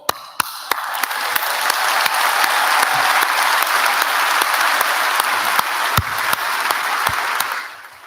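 Graduation-style audience applause during a name reading builds quickly into sustained dense clapping, with a few sharp individual claps standing out near and loud before it tapers at the end.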